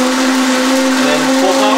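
A blender blending a raw vegan smoothie runs loud and close with a steady motor whine that climbs slightly in pitch as it speeds up.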